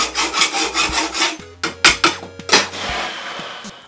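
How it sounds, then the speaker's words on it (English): A hand file rasps across a burnt hole in a steel helmet, rhythmic scraping strokes, close and loud, with a few metallic clinks and knocks between passes. "I guess I could use a file."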